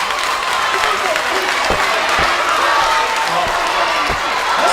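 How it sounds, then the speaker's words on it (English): An audience at a university lecture applauds and cheers, a dense steady roar of clapping filling the hall with a few heavier thumps scattered through it. "What are you applauding?"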